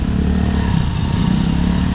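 Dirt bike motorcycles with Tubliss systems and DID 520 VR chains ride a wet, slippery forest trail, their close engines droning steadily and loudly with a rough low rumble and no voices.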